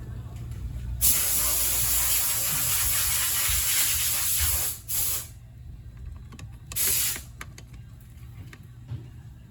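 Cleaner sprayed onto the gasket mating surface of a liquid-cooled two-stroke ATC250R engine during assembly: one long, loud, close hiss of about four seconds, then two short bursts, with brief talking between them.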